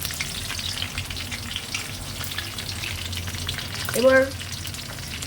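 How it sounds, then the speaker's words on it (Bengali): Dried red chillies, black peppercorns, cinnamon and cardamom sizzle steadily in hot oil for a paneer dish, a continuous crackling fry, with a brief spoken word near the end. "এটা একটু ভাজা ভাজা হোক।"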